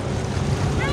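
A boat moving out across Khanpur Dam lake in Khyber Pakhtunkhwa, Pakistan, with steady water rush, wind buffeting the microphone and low engine rumble, loud and continuous throughout.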